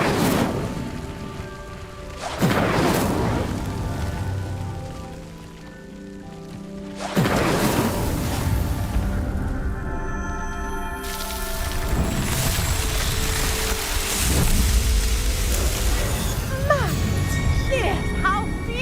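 Incendio fire spell lighting pyres in Hogwarts Legacy: three separate whooshing bursts of flame a few seconds apart, each settling into a steady crackling roar.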